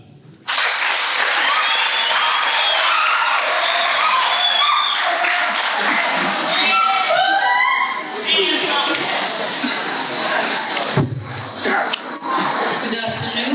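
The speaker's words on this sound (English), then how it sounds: "Let's clap for her." A school debate audience bursts into full, dense clapping after a brief quiet start and keeps going at a steady level. A few whoops and voices cut through near the middle, and a quick dip comes before the clapping picks up again.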